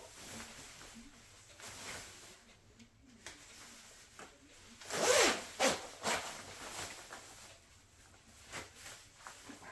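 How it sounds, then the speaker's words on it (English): A rain suit's zipper is pulled up in a couple of quick, loud rasping strokes midway, with softer fabric rustling and rubbing before and after. "So zip it up."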